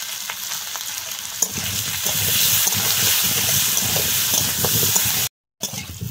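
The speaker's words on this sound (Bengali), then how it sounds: "আলুগুলোকে ভেজে নেব। সামান্য নুন আর হলুদ দিয়ে দেবো।" Potato pieces frying in hot oil with salt and turmeric, a steady loud sizzle that runs nearly the whole time with a brief jolt early on and a short gap near the end.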